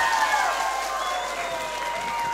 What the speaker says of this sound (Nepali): सबैले दुईटै हात माथि गर्नुहोस् त दुईकै हात जोरदार ताली प्लिज